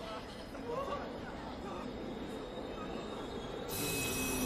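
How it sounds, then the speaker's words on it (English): In the anime Jujutsu Kaisen's Shibuya Incident arc, a train rumbles steadily with metallic wheel squeals, a continuous mid-level rail noise that grows brighter near the end. Voices talk over it. "Like, why is the train here?"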